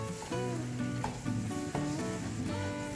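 Freshly grated coconut stirred in a hot pan, with a soft sizzle under repeated scraping strokes of a spatula at a steady rhythm, close and moderately loud, no talking.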